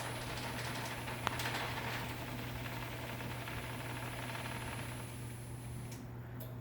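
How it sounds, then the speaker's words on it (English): A Genie Excellerator garage door opener with a screw-drive rail runs slowly downward, giving a steady low mechanical hum with faint rattling rail chatter. One brief click near the start, then it runs evenly at moderate distance. "It's quieter on the way down because it runs slower. You can hear a little bit of rail chatter"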